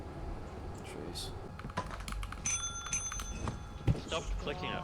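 Counter bell in Lethal Company clicked repeatedly, bright ringing dings in a quick irregular series, heard under players talking.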